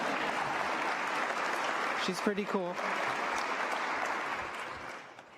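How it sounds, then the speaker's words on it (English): A convocation audience applauds the Provost, a steady wash of clapping that fades slightly at the end, while a voice speaks briefly partway through. "we can applaud for our Provost"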